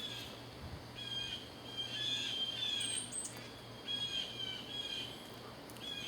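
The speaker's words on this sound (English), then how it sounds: "I think a bunch of crows are squawking." Crows calling in the background, short repeated squawks and chirps scattered over a steady low hum, fairly faint and distant.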